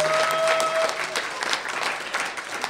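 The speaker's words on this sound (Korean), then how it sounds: "큰 박수로 환영해 주세요" Audience applause at a live event before an encore, steady broadband clapping throughout with a brief tonal note early on, fairly loud and sustained.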